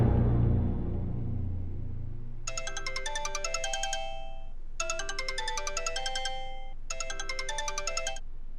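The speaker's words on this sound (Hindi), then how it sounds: "मैं कॉल करता हूँ उसको अभी के अभी।" A phone ringtone plays three bright, tinkling melodic bursts with short gaps between them, clear and close, following a low rumbling fade at the start and with no voices.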